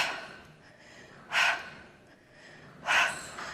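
Breath exhaled in two clear, evenly spaced puffs during knee stretches on a Pilates reformer, close and unaccompanied by talk.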